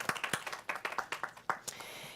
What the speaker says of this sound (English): So I think we should give all of us a round of applause